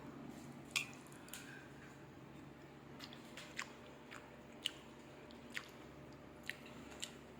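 Someone eating a dish of malunggay and mung beans, quiet close crunchy bites and soft wet chewing at irregular intervals.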